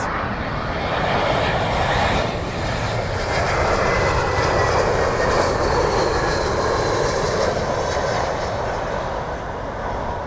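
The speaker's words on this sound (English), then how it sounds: "right behind that is going to be an Airbus A330 from Delta Airlines" A Delta Airlines Airbus A330 arriving at London Heathrow on runway 27L, its engines producing a loud, continuous jet roar that holds steady for the whole stretch, with no voices.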